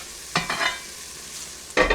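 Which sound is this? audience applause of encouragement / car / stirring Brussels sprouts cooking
stirring Brussels sprouts cooking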